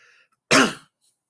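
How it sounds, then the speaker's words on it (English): A man gives a single short, forceful throat clear, loud and close, preceded by faint background sound and followed by silence. "Sorry, trying to clear my throat a little bit."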